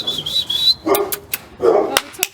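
Two dogs in an old house barking in short sharp bursts, several loud barks and yips close by after a thin high whine, with brief movement noise between barks.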